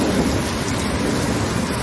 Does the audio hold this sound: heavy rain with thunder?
yes